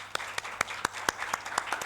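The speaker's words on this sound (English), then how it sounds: "please give a round of applause for our panelists" A small conference audience claps for the panelists, the crowd noise punctuated by distinct, regularly spaced loud claps from one nearby pair of hands over a soft background patter.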